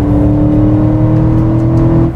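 A 2021 Aston Martin DBX with its 550 hp V8 revving hard in Sport Plus mode after a downshift to fourth gear, a loud, steady, rich engine drone heard close up throughout.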